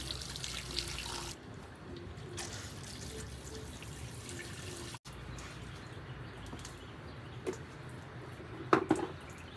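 A tap runs steadily outdoors while watering garden plants, with a continuous hiss of flowing water and a few louder splashes and knocks near the end.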